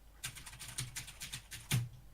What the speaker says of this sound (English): they still have mechanical keyboards in the 31st century